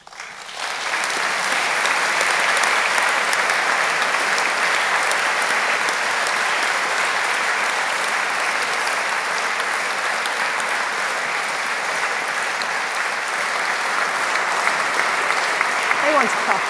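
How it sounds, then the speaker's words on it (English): Sustained, dense applause from a large audience at a university winter graduation ceremony as an honorary Doctor of Laws is presented, loud and even for many seconds, with a murmur of voices beneath it near the end. "They want to clap you."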